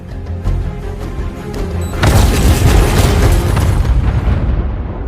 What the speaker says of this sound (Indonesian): Nora memutuskan untuk meledakkan semua kotak berisi jiwa-jiwa saudaranya